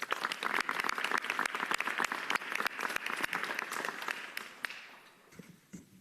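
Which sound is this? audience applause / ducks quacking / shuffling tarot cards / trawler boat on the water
audience applause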